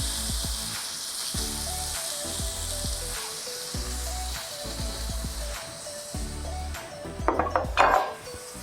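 A tomahawk ribeye steak sears in a hot, lightly smoking pan with a steady sizzle under soft background music, and metal utensils clink against the pan near the end.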